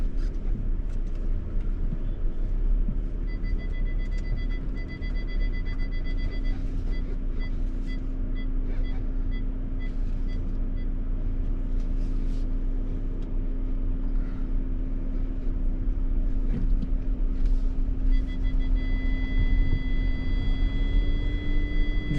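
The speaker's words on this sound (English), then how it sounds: "Because then comes the slush, where we put the car in some shallow deep water." Audi Q5 or Q7 driven off-road through shallow water and slush, a steady low engine drone with continuous rushing splash and hiss throughout, near and fairly loud, with faint intermittent beeping tones above.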